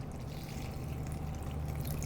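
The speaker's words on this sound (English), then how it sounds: "we're just gonna add the wet ingredients to our dry" Wet ingredients for a vegan pineapple upside-down cake pour into a bowl of dry ones, a close, continuous low glugging and splashing that stays steady and fairly soft throughout.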